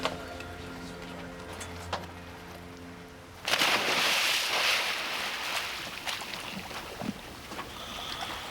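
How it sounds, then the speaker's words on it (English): A dive boat's engines rev up at a shark-feeding dive site, a loud rush of engine noise that rises abruptly midway and holds steady, over wind and water. "Once at the dive site, the captain revs the boat's engines."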